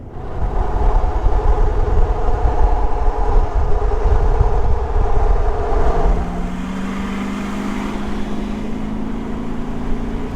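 Toyota Landcruiser 200 Series with a straight pipe exhaust cruising at about 80 km/h in fifth gear with no load, heard from inside the cabin as a steady loud engine and road drone, with a low exhaust tone rising in the latter half.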